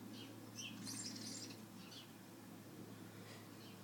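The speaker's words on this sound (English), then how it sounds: "we seem to have a gaggle of starlings that are hanging around" Starlings in a garden chirp and twitter in a loose, busy cluster over a steady low hum, the calls strongest in the first second and a half, then thinning to faint scattered notes.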